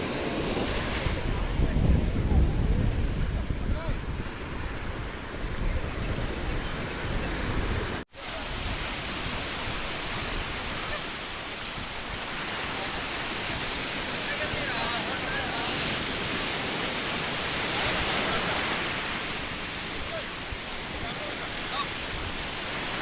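Steady roar of sea surf washing onto a beach at Visakhapatnam, broadband and continuous, with wind buffeting the microphone and a brief dropout partway through.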